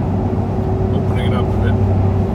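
A 2015 Chevrolet Silverado with a Magnaflow axle dump exhaust cruising past barriers, heard from inside the cab as a loud, steady low engine drone and exhaust rumble with open windows, mixed with road noise and a brief voice.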